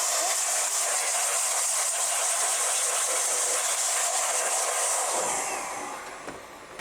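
Strong continuous rush of air blasting dust out of crypto mining machines in a shed, a loud steady hiss that thins and drops away near the end.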